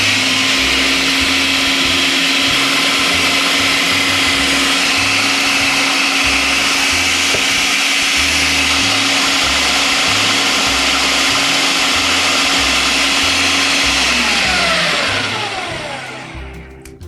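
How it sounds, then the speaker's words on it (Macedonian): An electric blender whirs loudly and continuously while blending baba ganoush, an eggplant dip, with cold-pressed oil being added, then winds down at the very end. "додека работи блендерот, додадете ладно цедено масло"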